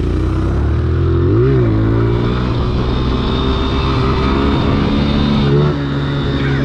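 A four-stroke motorcycle engine during wheelie practice, running loud and close with a steady throbbing drone and a couple of quick rises and falls in pitch as the throttle is blipped.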